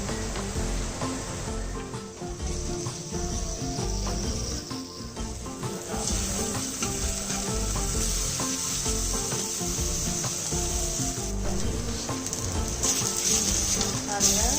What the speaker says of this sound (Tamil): இப்போ இதில் இந்த பன்னீரை போட்டு ஃப்ரை பண்ணணும்.